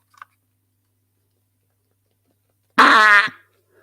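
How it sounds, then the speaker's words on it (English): An electronic fart machine toy from the late 1980s or 1990s lets out a single loud, buzzing, rippling fart noise about half a second long after near silence and a tiny click. "this fart machine is something I probably got in the late 80s, 90s"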